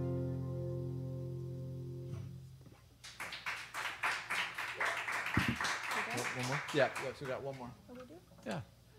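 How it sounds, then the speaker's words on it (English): A live audience at a First Night Northampton performance breaks into clapping after a sustained tone fades, with hand claps building into steady applause that carries on for several seconds, a voice briefly heard over it. "Thanks for clapping"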